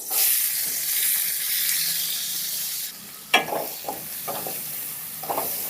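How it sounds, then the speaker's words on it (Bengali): Onion pieces drop into hot oil already spiced with cumin seeds and a dried chilli, setting off a loud steady sizzle that fades slightly, followed by several sharp stirring clatters near the end. "বড় সাইজের পেঁয়াজ কেটে রেখেছিলাম, সেই পেঁয়াজটাকে দিয়ে দিচ্ছি।"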